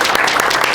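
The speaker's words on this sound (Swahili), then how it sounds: "Kwa hiyo acha tuweze kuwapigia makofi." An audience applauds at a church launch day event, dense clapping from many hands, loud and sustained across the brief moment.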